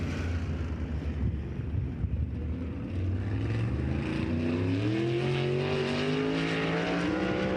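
A sprint car's engine at Lucas Oil Speedway during High Limit Racing qualifying drones steadily and rises in pitch as the car accelerates, heard from a distance under wind and crowd ambience.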